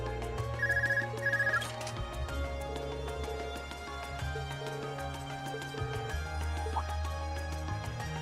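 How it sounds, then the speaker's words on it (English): A telephone rings in the video game Trails of Cold Steel, two quick bursts of electronic trilling ring heard over ongoing game background music, fairly soft, with no talking. "Oh, we're getting a phone call."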